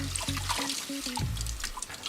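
Water is poured into a honey-sweetened sauce for tempura Beijing beef, a short trickle and splash close by, alone without talk.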